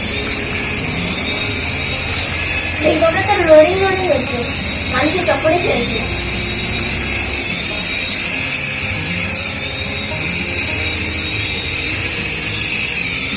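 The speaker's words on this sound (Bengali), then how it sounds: "এই যে উঠছে হেলিকপ্টার" A helicopter lifting off, giving a steady high-pitched whine with a slow, regular wobble throughout, while people talk over it.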